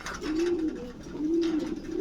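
Pigeons coo in low, rounded, repeating calls at a large caged pigeon farm in Faridpur, close and clear, with a soft rustle of many birds behind.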